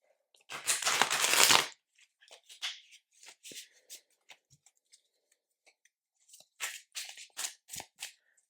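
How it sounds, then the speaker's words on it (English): Overhand shuffling of a tarot card deck in Rider-Waite-Smith style: a dense burst of papery riffling, then scattered soft card slaps and taps, then another run of quick clicks. Sounds are close, with no speech. "I love shuffling this deck, although I am not a riffle shuffler."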